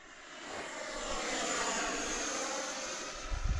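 Radio-controlled model airplane in flight, a faint steady engine whine that swells and holds for a few seconds with a brief low thump at the end, no talking.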